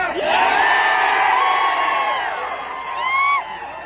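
At a Pandharpur election victory celebration, a dense crowd cheers and whoops loudly and continuously, with many voices rising and falling together, close and energetic.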